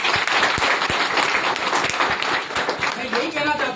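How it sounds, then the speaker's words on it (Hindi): Audience breaks into loud, dense applause after being asked to clap, with a few voices underneath, tapering slightly at the end. "एक बार जोरदार तालियां बजाइए।"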